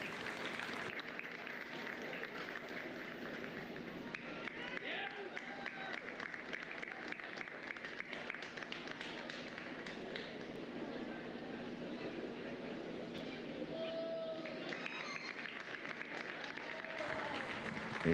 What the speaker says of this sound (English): Go ahead and show these kids a nice round of applause.